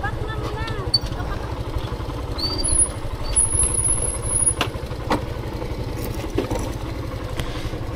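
A new motorcycle idles close by with a steady low, pulsing engine throb that runs without a break, while faint voices and clatter sit over it outdoors.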